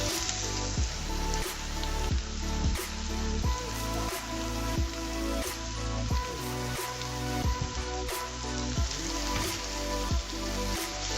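Onions and other ingredients are sautéed with turmeric powder in a hot pan, keeping up a dense, even sizzle like steady rain, with regular light scrapes and taps of a spoon stirring throughout.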